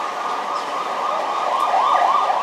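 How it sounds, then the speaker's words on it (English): An ambulance siren near a general hospital wails steadily and loudly for a couple of seconds, its rising and falling tone continuous and fairly close, with no voices. "That's the blare of the ambulance."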